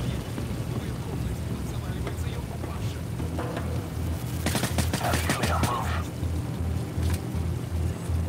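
Gunfire in the video game Modern Warfare, with rapid bursts of shots crackling through the middle of the clip over a steady low rumbling drone, with scattered single reports before and after.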